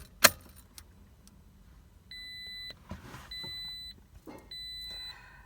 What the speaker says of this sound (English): go ahead and turn on your car without starting